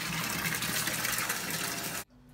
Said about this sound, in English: now to get the tank all set up here with water on super speed